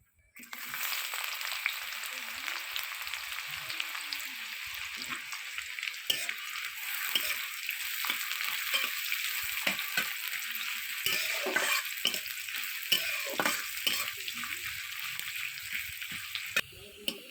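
Chopped onion frying in oil with cumin seeds in a pan for a Bengali plantain and stinging catfish curry, a steady close sizzle running throughout with scattered stirring scrapes and clinks.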